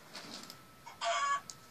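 A single short, bright chicken cluck from Minecraft sounds over faint background noise.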